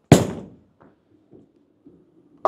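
A bowling ball thrown with a squeezing grip lands with a sharp thud, rolls down the lane in a low, faint rumble, then strikes with a loud crack near the end.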